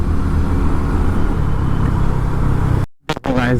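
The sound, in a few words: Delhi road traffic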